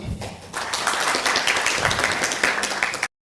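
Audience applause at the closing ceremony of an East African summer school on optics and lasers: a few seconds of even clapping from a modest crowd, ending abruptly.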